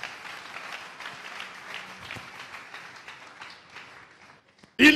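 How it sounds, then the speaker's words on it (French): Church congregation applauding together, a steady dense wash of clapping that holds for several seconds, then fades out before a sudden loud burst at the very end. "Acclamons très fort."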